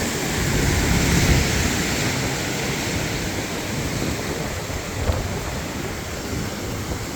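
Ocean waves wash onto a morning beach in front of a hotel in Nha Trang, Vietnam, a steady, full roar of surf that keeps going without a break for the whole stretch.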